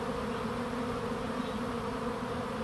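A massive honeybee swarm moving into a backyard swarm trap makes a dense, continuous buzzing drone, close and steady throughout with no voices.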